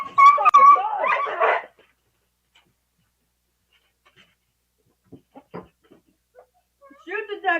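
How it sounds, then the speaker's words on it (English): A video game dog barks and whimpers in a short burst, then a long quiet stretch follows with a few faint clicks before more dog noise returns at the end. "Now the dog's taunting him, so he's gonna go after the dog."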